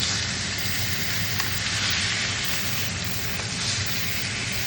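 Steak searing in a hot pan gives a steady, close, loud sizzle with a constant crackling hiss that runs unbroken from start to finish, no voices present.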